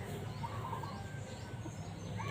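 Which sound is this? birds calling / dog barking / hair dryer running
birds calling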